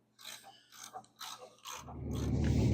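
Nut tightened down over a lock washer on a carriage bolt, several close metallic scraping strokes followed by a steady rising ratchet-like rasp toward the end.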